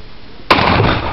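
A gun fires once at close range during a shooting session, a sudden loud crack followed by a lingering broad roar of noise.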